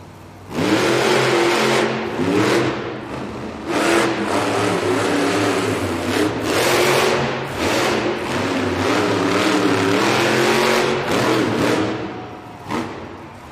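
A monster truck engine roars at a Monster Jam stadium event in Oakland during a timed run against the clock, loud and continuous with repeated revving surges and dips, large and powerful throughout.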